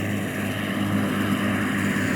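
Simulated Merlin aircraft engine sound from a Real Sound V4.1RC sound system, held at about half throttle: a steady, loud, continuous propeller-engine drone with a rich low hum that stays even throughout, no voices.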